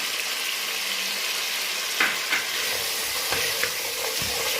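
Carrots and beans frying in a pan for chicken-vegetable macaroni, a constant close hiss and sizzle with a few soft scrapes of stirring, alone without any voices.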